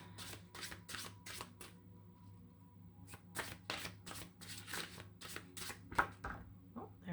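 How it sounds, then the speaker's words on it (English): Several rapid papery riffles of tarot cards being shuffled close by, coming in quick bursts with short pauses between them. "We're going to give them a shuffle."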